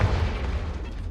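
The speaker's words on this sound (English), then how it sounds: "Both have their uses, but I think you'll find that a Confringo cast travels a bit farther than that of a spell like" Confringo spell blasting in Hogwarts Legacy, a dense booming fiery burst with heavy low rumble that sustains loudly through the whole moment, no voices over it.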